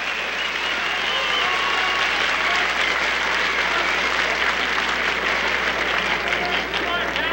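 Sustained applause from a wrestling arena crowd at an all-star match, dense steady clapping and cheering filling the hall at a constant level throughout.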